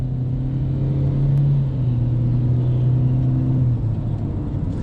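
A 2026 Kia K4 EX sedan's engine drones steadily from inside the cabin while driving, a low humming rumble with a faint rise in pitch, continuous and fairly loud, with no talking.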